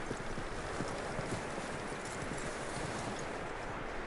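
Horse hooves clip-clop steadily at a walking pace in Red Dead Redemption 2, with continuous broadband outdoor ambience beneath the irregular, fairly close hoof falls.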